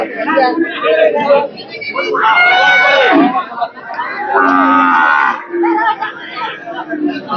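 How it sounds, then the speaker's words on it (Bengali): A calf moos loudly and close by at a busy cattle market, two long drawn-out calls rising over crowd chatter and nearby voices. "চমৎকার একটি বাছুর"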